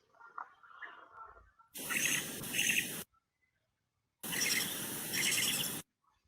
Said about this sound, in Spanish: se van a escuchar cada una de las vocalizaciones de alta calidad para Milpa Alta